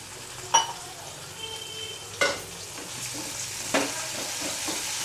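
Green chillies sauté in hot oil with a steady soft sizzle, while a spoon stirs and scrapes the pan in a few distinct clinks.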